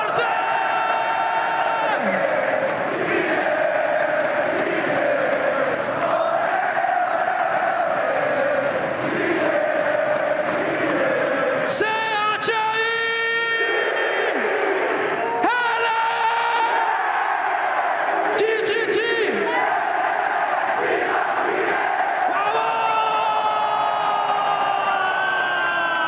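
A stadium crowd at a Valorant Masters esports match in Santiago, Chile, roars, whoops and chants in unison for the whole stretch, loud and sustained, with sharp whistles and rising shouts cutting through at intervals.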